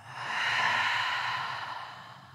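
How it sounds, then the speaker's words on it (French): A long, soft exhale through the mouth during prenatal yoga breathing, rising and fading smoothly over about two seconds, close and alone with no talk. "Expire, souffle par la bouche."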